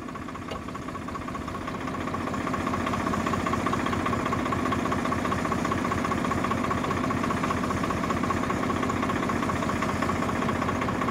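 A Swaraj tractor's diesel engine idles steadily and close by, a continuous low rumble with a faint knocking pulse that swells slightly after the first two seconds, with no voices.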